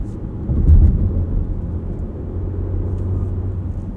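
A 2022 Porsche Macan S engine pulls under acceleration, a steady low droning rumble that swells briefly early on and then holds a constant near growl with no talking.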